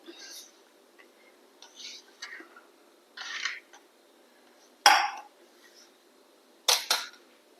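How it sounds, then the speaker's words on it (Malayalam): Leftover chapati cut into pieces for kothu chapati, heard as a few short, quiet scraping and clicking bursts spaced apart, with the loudest strokes near the end and no talking. "ചപ്പാത്തിയൊക്കെ ഇങ്ങനെ മുറിച്ചെടുക്കുക"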